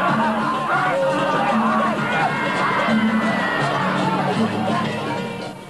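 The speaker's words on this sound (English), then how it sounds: "The gods' supporters in the crowd themselves become entranced and rush to give the gods help, waving steel daggers" An entranced crowd rushing forward during a Balinese ritual battle, heard as a loud, dense hubbub of shouts and cheers with a few sustained tones running beneath it.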